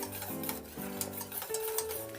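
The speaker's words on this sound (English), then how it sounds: "as long as you continue to whisk it and make sure it doesn't stick" Vegan cheese sauce whisked in a pan over medium-high heat, a soft continuous scraping and ticking from the whisk, close but quiet, with no talk.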